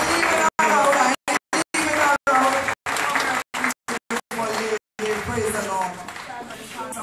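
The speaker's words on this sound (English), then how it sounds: "Clap your hand to Jesus" A church congregation claps and cheers with loud, lively applause mixed with voices and crowd chatter. The sound cuts out in short gaps, and near the end it settles into a softer murmur of talk.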